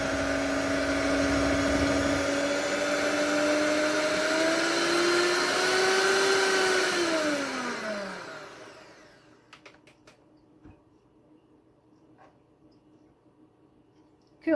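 An electric mixer whirs steadily through gluten-free red velvet bundt cake batter, its pitch sliding downward as it slows and fades out, followed by quiet scattered clicks and taps.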